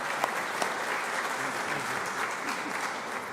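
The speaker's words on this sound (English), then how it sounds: "So a round of applause for the longest serving governor of our state." An audience applauds the state's longest serving governor at a public event, a dense, steady round of clapping with a couple of sharper claps near the start, continuous throughout.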